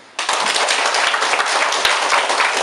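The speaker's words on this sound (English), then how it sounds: "everyone deserves a round of applause" A Grade 7 classroom breaks into a sudden round of applause after a debate, many hands clapping densely and loudly for the full stretch with no talking.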